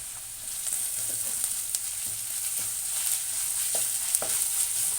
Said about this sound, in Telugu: అల్లం వెల్లుల్లి వాసన పోయే వరకు కూడా మనం వేయించుకోవాలి